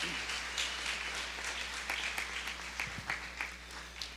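A church congregation gives a round of applause during a sermon, with moderate scattered clapping over a steady low hum, fairly even throughout and fading slightly toward the end.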